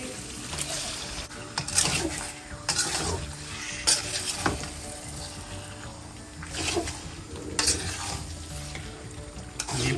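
Chicken added to golden-browned onions in a pot for chicken karahi, frying with a constant loud sizzle, scraped and stirred with a utensil that clinks and rasps against the metal in repeated bursts.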